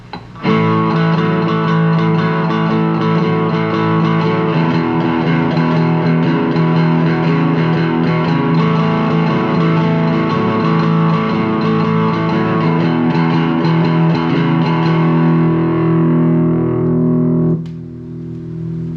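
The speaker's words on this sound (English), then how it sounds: "Now we're going to hit this tube screamer, which is overdrive." An electric guitar runs through a Tube Screamer overdrive pedal and plays sustained, gritty chords steadily for about seventeen seconds before the sound cuts to a softer ringing tail. No one speaks.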